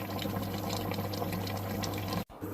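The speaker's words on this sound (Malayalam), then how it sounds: "ഇതിലോട്ട് നമ്മൾ എല്ലുകറി ഒഴിച്ച് കൊടുക്കുകയാണ്." Hot bone curry pours steadily onto mashed tapioca for kappa biriyani, a continuous liquid splash that stops abruptly near the end.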